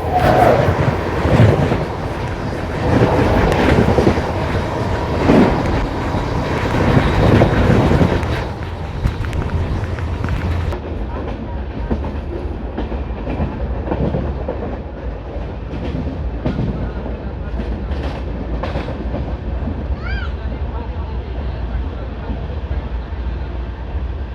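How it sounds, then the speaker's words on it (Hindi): The Patalkot Superfast Express roars past loudly with rumbling wheels and clickety-clack over rail joints, wind buffeting the microphone, then the noise drops and settles into a quieter ongoing rolling sound. "लो जी दोस्तों सामने से आ रही है पातालकोट एक्सप्रेस।"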